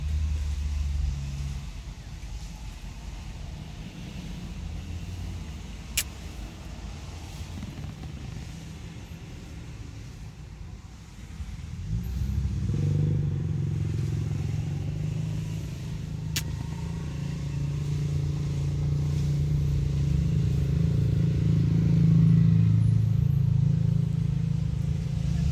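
Motorcycles roll past at Ayala Alabang Country Club in Muntinlupa City. A steady low engine rumble swells louder partway through and peaks again near the end, heard from a moderate distance with no talk.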